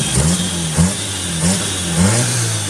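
A modified 2005 car engine revs repeatedly, about four rising bursts with pops between them, loud and close over a steady idle.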